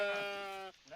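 A single loud, close, drawn-out bleat from a sheep in the video game Hardland, tonal and steady, cutting off abruptly near the end.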